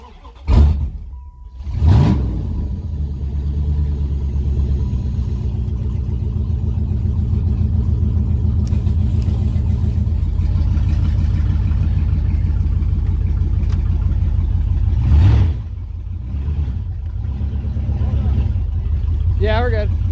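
A Ford engine with open headers runs loud and close, a steady raw rumble with occasional throttle blips, while people talk over it throughout.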